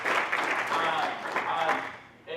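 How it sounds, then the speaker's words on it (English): A conference audience applauds during a session, a fairly loud wash of clapping mixed with voices, thinning out toward the end. "give yourselves a round of applause"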